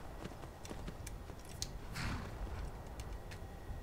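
Horse hooves clop steadily in Skyrim as a rider moves along, a fairly soft, regular beat of footfalls over low ambient noise.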